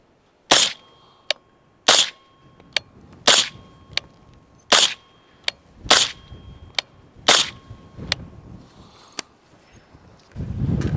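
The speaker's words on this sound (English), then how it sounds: "now we got a Banish 223 on an Aero Precision 16 upper. So same thing, 6 shots," Six suppressed rifle shots from a Banish 223 suppressor on an Aero Precision 16-inch upper, sharp evenly spaced cracks each followed by a softer echo, outdoors at close range, ending in rising noise.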